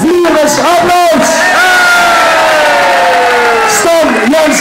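A crowd cheers loudly and continuously for performers, with sustained shouting and whooping voices close by.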